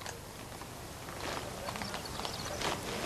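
Horse hooves clip-clop in an old-west setting, a loose irregular patter of steps at moderate distance, fairly soft and steady over a broad background rumble, with no voices.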